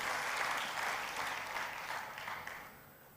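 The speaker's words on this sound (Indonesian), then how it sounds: "berikan tepuk tangan buat Tuhan kita" A church congregation applauds together, a dense wash of many hands clapping at moderate distance that swells briefly and then gradually fades toward the end.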